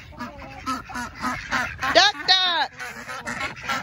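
Several hungry ducks quack nearby in loud bursts, with a person talking to them in between.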